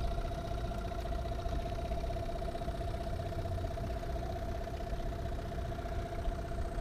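Car engine idling steadily after a carburetor repair, its idle speed nudged up from around 900 rpm; a smooth, even hum close by with no talk.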